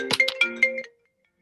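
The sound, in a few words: mobile phone ringing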